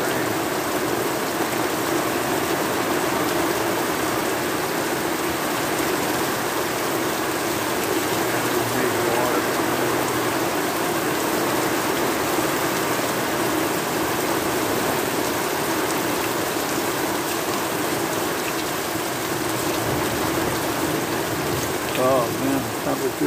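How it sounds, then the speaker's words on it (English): Steady rain falling during a July storm, a dense continuous hiss with wind mixed in, even and uninterrupted throughout. "I can't tell if that's those trees are moving from the wind or the rain."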